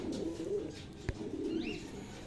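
Pigeons coo softly and steadily close by, a low rolling murmur with a brief sharp knock partway through.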